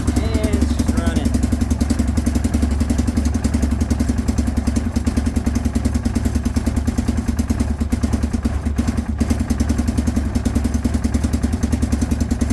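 A Yamaha Rhino side-by-side engine idles with the choke fully off, a loud, even, rapid mechanical chugging that holds steady throughout.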